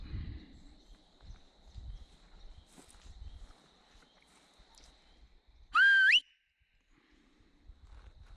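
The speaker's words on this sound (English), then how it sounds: "I think I'm gonna whistle her back." A person on an outdoor trail whistles to call a dog back: one loud, brief whistle that bends upward in pitch, following quiet footsteps and rustling.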